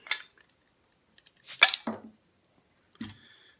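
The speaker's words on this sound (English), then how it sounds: "Get this bottle open." Glass and metal clinks ring out as a bottle of Sierra Nevada Celebration Ale is handled and opened: a short tap, a louder rattling clatter, then a final clink, close and distinct with silence between.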